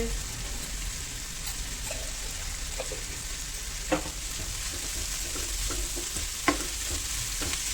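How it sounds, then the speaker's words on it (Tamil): Steady sizzling of onions frying in a pan for onion samosa filling, with occasional soft clicks of a utensil stirring, continuous and close. "நல்லா மூடி வதக்கிக்கலாங்க"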